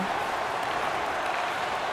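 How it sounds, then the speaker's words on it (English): Hockey arena crowd in Philadelphia cheering during a playoff game, a steady, dense roar of many voices with no breaks, loud and close throughout. "the crowd is getting excited here in Philadelphia"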